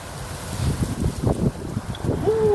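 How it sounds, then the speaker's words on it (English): Strong wind buffeting outdoors beside a highway, a steady rushing roar with gusty swells and low rumble, joined near the end by a brief high whistle-like tone. "it's a windy one out here"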